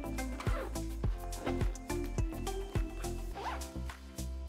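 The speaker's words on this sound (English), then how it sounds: "Let me go ahead and unzip it." A camera bag's main compartment is unzipped in a series of quick rasping pulls, about nine short zips in a row, close and clear with no voices.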